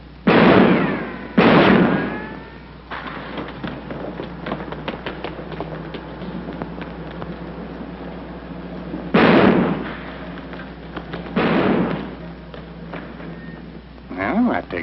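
Gunshots go off in an old movie scene as several loud, sharp bangs, spaced apart and heard between stretches of quieter dialogue and background sound.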